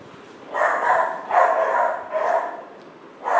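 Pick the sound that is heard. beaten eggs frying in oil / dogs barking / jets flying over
dogs barking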